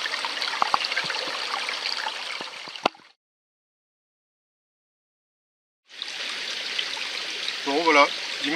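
A mountain stream flows beside a bivouac on a sloping slab, a steady rushing of water heard close, cutting out for a few seconds and then resuming, with a voice briefly over the water near the end.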